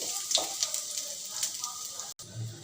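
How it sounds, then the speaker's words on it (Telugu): Chopped onion and ginger frying in a pan for veg noodles, a steady close hiss of sizzling with a few soft stirring scrapes and one brief gap near the end. "ఇప్పుడు అల్లం ముక్కలు, వీటిని కొంచెం గోల్డెన్ కలర్ వచ్చేంత వరకు ఫ్రై చేసుకోండి"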